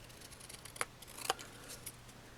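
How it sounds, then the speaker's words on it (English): Scissors trimming excess paper from a paper spring craft, a few crisp quiet snips close by, the clearest two around the middle, with no talk. "I'll just use my scissors to trim that off"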